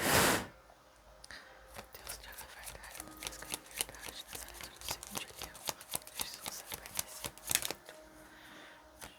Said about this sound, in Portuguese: Deixa eu tirar 4 cartas aqui.